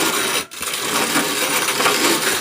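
Dried corn being ground into cornmeal in a hand mill, a continuous gritty, rasping churn with a brief pause near the start, close and steady, with no talking.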